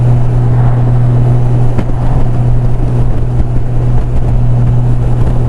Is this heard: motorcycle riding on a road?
yes